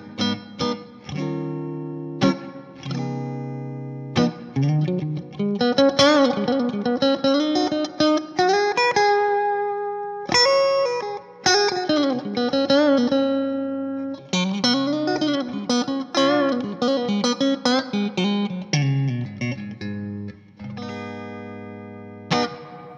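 Electric guitar through a Fender Treverb reverb pedal into a Marshall Origin 20 head and 2x12 cab, lush reverb tail, chords and melodic lines ringing out and blending into a wash of echo, steady and fairly loud throughout.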